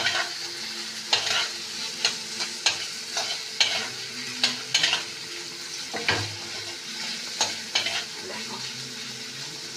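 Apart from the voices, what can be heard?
spice masala being fried and stirred for dal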